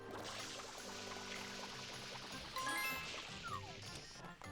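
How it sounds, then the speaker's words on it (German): Mario's water nozzle sprays in the Super Mario Sunshine video game, giving a continuous hissing gush over game background music, with a few bright chime-like tones rising near the end. "Hier, Wasser drauf spritzen."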